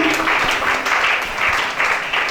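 A gathered crowd at a preacher's gathering in Gabon claps in loud, dense applause that comes in repeated surging waves over a couple of seconds.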